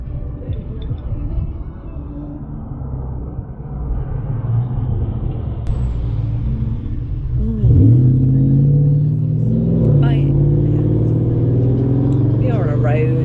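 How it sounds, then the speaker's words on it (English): A noisy car on a country road drives past nearby, a steady low engine rumble swelling as it passes, heard alone without talk. "We are on a road here, so Yeah, it's quite noisy. Some noisy car."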